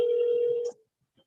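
A telephone ringback tone sounds during an outgoing call, one steady electronic tone close and clear that cuts off sharply, followed by near silence and a faint click.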